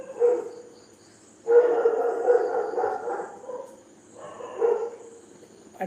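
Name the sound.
dog barking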